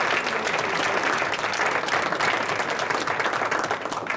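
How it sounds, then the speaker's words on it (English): Applause for four panelists at a panel discussion fills the room, a dense steady wash of clapping from a crowd that stays loud throughout and tapers slightly at the end. "Let's give a round of applause for all 4 of our panelists."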